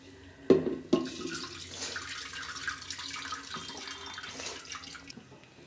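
Water splashes and sloshes in a pot as grains are swirled and rinsed, with a couple of knocks at the start, close by and no talking.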